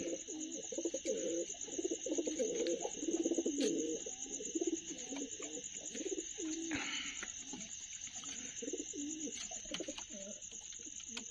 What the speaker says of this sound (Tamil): இது போக எக்ஸ்ட்ரா வந்த புறா இது ஒன்று இருக்குது